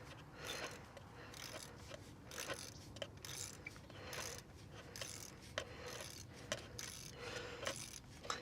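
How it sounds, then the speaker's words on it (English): A ratchet wrench clicks steadily while turning bolts on the cooling fan of a 1996-2004 Nissan Pathfinder, a repeated metallic ratcheting rasp that is close but fairly quiet, with no talking. "Once you get them loose, you can just take and ratchet it on off with the ratchet part there if it gets tight."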